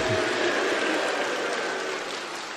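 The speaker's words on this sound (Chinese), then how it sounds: "观众们热情的啪啪啪" A theatre audience at a Deyun She crosstalk show in New York, with Guo Degang and Yu Qian on stage, applauds. The clapping is dense and continuous, a broad wash that fades slightly toward the end.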